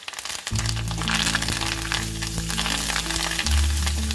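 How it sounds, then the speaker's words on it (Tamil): Curry leaves crackle and fry in hot oil, a steady loud sizzle with sharp pops scattered throughout and a low stove hum beneath, no voices. "கருவேப்பிலை சேர்க்கும் போது இந்த மாதிரி நல்லா பொரிய விடுங்க"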